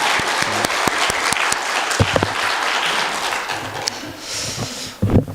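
Church congregation clapping together after a hymn at a Korean church service, a steady dense patter of hands lasting several seconds, with a few sharper individual claps standing out before it thins toward the end.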